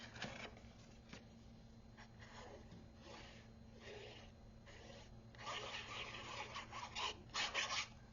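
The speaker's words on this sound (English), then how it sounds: "put that in there. Give that a good burnish." Paper being rubbed down firmly with a burnishing tool onto the shelf of a mini craft bookshelf, producing soft, close scratchy rasps in uneven bursts that grow denser and louder toward the end over a low steady hum.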